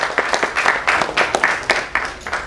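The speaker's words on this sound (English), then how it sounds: "I want all of you to give a round of applause to our entire team" A short burst of audience applause at a press meet and trailer launch, many hands clapping together in a dense, uneven patter at close range.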